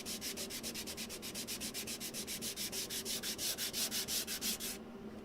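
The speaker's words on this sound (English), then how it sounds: "Hopefully the sandpaper lasts long enough to get through all of it." Sandpaper rubs quickly by hand across a wood engraving in rapid, even back-and-forth strokes, close and rasping, about five per second, then stops near the end.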